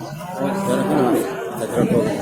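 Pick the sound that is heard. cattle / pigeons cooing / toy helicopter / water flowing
cattle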